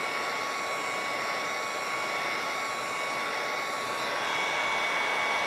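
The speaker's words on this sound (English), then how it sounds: "So I use a heat gun." A heat gun blows a steady, loud hot-air whoosh with a faint whine, aimed at an emblem sticker on a mini fridge to soften its glue, running continuously with no talking.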